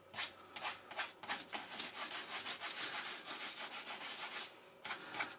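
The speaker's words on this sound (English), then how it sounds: "if you're very gentle with it and just give it a rub, it completely peels off" Fingers rub dried excess glue off a foam airframe of an FMS 64mm Rafale model jet, a soft, faint, continuous scuffing in quick back-and-forth strokes close by, with no talk.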